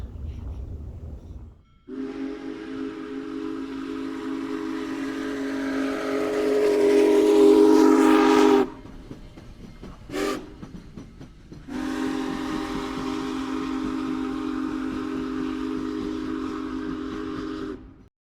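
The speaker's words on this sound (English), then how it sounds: "we're going to run a train around this inner main loop for the first time" A model train runs with a loud, sustained whistle and hissing steam, pausing briefly before the whistle sounds again at length.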